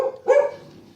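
Dogs in a backyard give a couple of sharp barks reacting to a pine cone that fell in the yard, close and loud, the second bark stronger, then low background sound.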